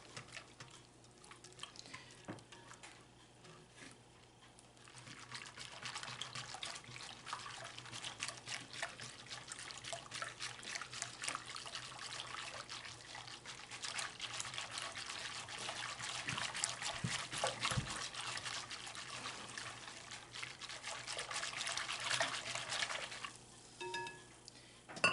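Cold water is poured into a bowl while making pineapple strawberry jello bars, a faint, thin trickle that runs on for a long stretch with light clinks and kitchen handling noises around it.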